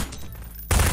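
Gunfire in the Garry's Mod video game, a sharp loud burst that cuts in abruptly after a quieter stretch of ambient game noise.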